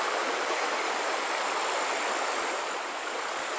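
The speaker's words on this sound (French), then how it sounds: "Cette petite rivière deviendra grande. Et en fait, c'est la Meurthe." The Meurthe, a small river in the Vosges, flowing steadily as a dense, even rushing of water heard up close, with no voices.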